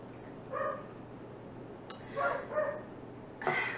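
A dog indoors gives a few muffled barks and yips at a neighbouring puppy out in the yard, short scattered bursts at moderate distance over a steady background hiss.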